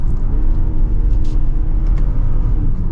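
A 2025 BMW X4 M40i accelerating in Eco mode gives a steady, loud low engine and road rumble from inside the cabin, with a sustained drone and no voices.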